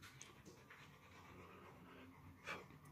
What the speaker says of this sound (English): Dog's panting.